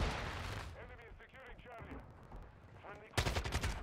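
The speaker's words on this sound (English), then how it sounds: "I can't even see what I'm shooting at down there." Gunfire in a first-person shooter video game, a dense run of rapid shots that drops back under a faint voice in the middle and then returns in a sharp loud burst at the end.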